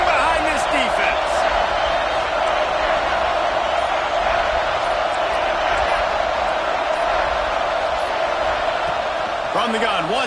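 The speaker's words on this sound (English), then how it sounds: "this crowd is getting behind this defense" Football stadium crowd roaring for the home defense on a big third down in the red zone, a dense continuous wall of cheering at high level, with a voice talking over it at times.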